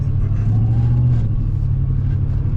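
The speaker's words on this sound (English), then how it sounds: "A little rumble to the exhaust is all you need." A 1984 Mercedes-Benz 380SL convertible sits nearby with its exhaust giving a deep, steady low rumble, a constant idle drone with a brief swell early on and no voices.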